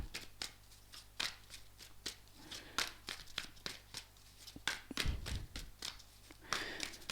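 Tarot cards being shuffled by hand for a gypsy tarot love spread, a steady run of crisp riffling snaps and soft slaps repeating close up, with no talk.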